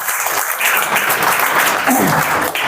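A class of students claps loudly for Ayush at a motivation seminar, a steady, dense burst of applause from a close crowd.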